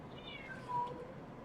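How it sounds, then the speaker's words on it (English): A cat in the video game Genshin Impact lets out a single short, clear meow, soft and fairly near against a quiet background. "Wait, there it is! The cat!"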